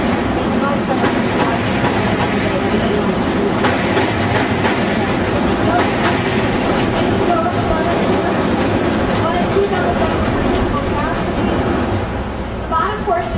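Chicago elevated L train rumbling overhead from a night boat on the river, a loud, continuous roar with rail clatter, while a voice talks underneath.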